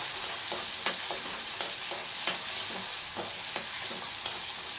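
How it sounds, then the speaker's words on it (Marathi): Onion paste and dabeli filling sautéing in a pan on the stove, a steady soft sizzle with scattered light scrapes and taps of a spoon stirring, close and even throughout with no talking. "छान ही परतून घ्यायची त्याचा कलर बदलेपर्यंत"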